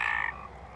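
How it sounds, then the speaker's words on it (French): A green frog in tree branches gives a single short croak, close and clear, fading into quiet outdoor background. "Ça là, c'est une grenouille."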